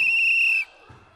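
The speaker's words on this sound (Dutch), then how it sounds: "blaast juf op een fluitje" A teacher blows a whistle during a children's gym class: one sharp, shrill, close blast lasting about half a second, then near quiet.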